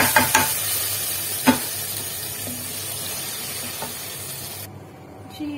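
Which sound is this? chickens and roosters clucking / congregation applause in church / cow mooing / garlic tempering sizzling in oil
garlic tempering sizzling in oil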